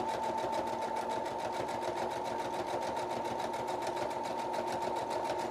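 A sewing machine stitches along quilt seams for a crazy quilt Ohio Star block, a fast, even mechanical chatter that runs continuously at close range without talk.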